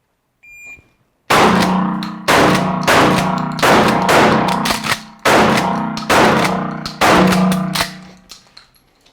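Shotgun firing rounds during a casino shooting drill, a series of loud sharp blasts spaced about a second apart with short pauses, close and forceful with echoing decays.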